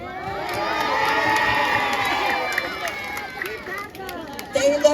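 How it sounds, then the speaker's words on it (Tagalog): A large crowd cheers and shouts loudly for a televised appearance, a dense roar of whoops and screams holding steady, then thinning with a few scattered yells near the end. "Sabay-sabay po natin palakpakan at hiyawan si Miss Taylor Swift."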